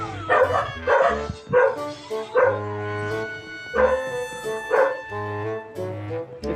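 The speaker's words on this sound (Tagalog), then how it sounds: "Aso to eh." Minecraft dog barking repeatedly in-game, a run of close, bright barks and yips in an uneven rhythm, loud and clear with no talk over it.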